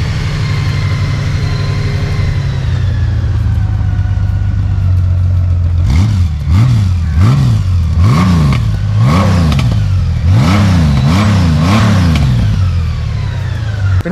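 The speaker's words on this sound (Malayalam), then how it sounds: "സ്റ്റോക്ക് ആയിട്ടുള്ള എക്സസ് നോട്ട് ഇൻലൈൻ 6 എഞ്ചിനാണ് കേട്ടോ." Stock inline-six engine of a Honda GoldWing idling steadily, then revved in a series of about seven quick throttle blips, each rising and falling in pitch, loud and close with no talk.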